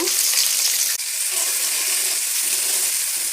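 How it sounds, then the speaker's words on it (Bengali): Onions frying in hot oil in a wok for noodles make a steady, close hiss and sizzle that holds at an even level from start to finish, with no talking. "কড়াইতে তেল দিয়ে দিয়েছি, এখন হচ্ছে পেঁয়াজগুলো দিয়ে দিব"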